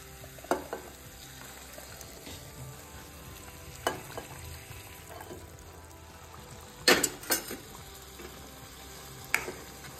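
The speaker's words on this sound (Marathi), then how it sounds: "चिकन छान फ्राय झाले याच्यात मसाल्यामध्ये" Chicken fries in masala for a curry, making a soft, steady sizzle with occasional spoon scrapes and clacks against the pot, one brief cluster louder than the rest, heard up close with no talking.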